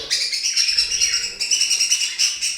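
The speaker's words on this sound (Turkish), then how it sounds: "burada iki tane kuşumuz da kavga ediyor" Several budgerigars chatter and chirp rapidly in overlapping bursts, busy and close, squabbling.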